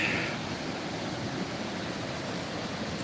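Steady rushing water at a spring, a dense broadband roar that stays even and close throughout, with no voices over it.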